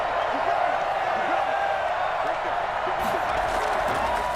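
Stadium crowd noise in the Madden 21 football video game, a steady loud roar of a home crowd with faint cheering, continuous throughout under game sounds.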